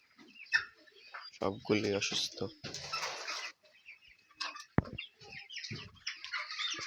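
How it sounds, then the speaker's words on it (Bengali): Sick chickens in a two-storey poultry farm shed struck by bird flu cluck and chirp in short scattered calls, faint and intermittent, while someone speaks over them. "দেখেন পুরো খামারটার অবস্থা, সব শেষ। যত মুরগিগুলো আছে এখানে"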